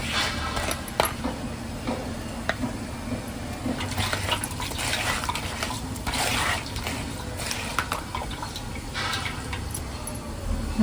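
Water poured into ground crab masala for a spicy Maharashtrian crab curry as it is strained through a sieve, giving a steady close liquid wash with small drips and clinks of a metal pot.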